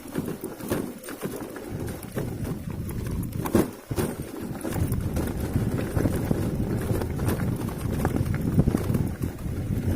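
A vehicle rolls over a loose crushed-stone gravel road in the Poltava countryside, surface never packed down over the years; steady close crunching and rumble of tires on stones with wind buffeting, continuous throughout.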